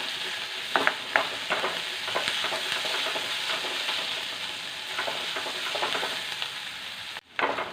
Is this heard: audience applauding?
no